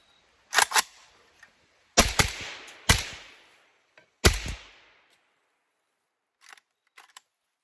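Suppressed AK rifle loaded from an Xtech Tactical magazine fires five sharp reports with ringing decay, one single and then an irregular string, followed by a few faint metallic clicks.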